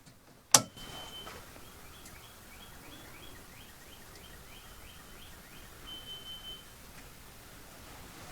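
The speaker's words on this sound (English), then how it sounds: "Oh, I hear some smoke detectors ringing." Smoke detectors sound inside a home during work on a generator transfer panel: one loud click is followed by a faint, distant, high-pitched chirping alarm that repeats in a steady rhythm for several seconds.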